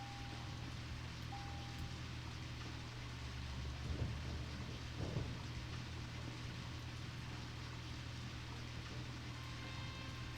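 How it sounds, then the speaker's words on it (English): Rain in the video game Deadly Premonition Origins hisses steadily and faintly with a low hum underneath, and a couple of soft thumps near the middle. "It's raining."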